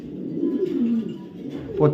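Racing pigeons, including a blue checker cock bird, coo in soft low throaty rolls close by, a couple of swelling calls with a brief louder burst at the end.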